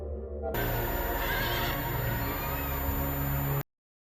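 A horse neighs loudly over a busy background, with hoofbeats clopping nearby; the sound cuts off abruptly at the end.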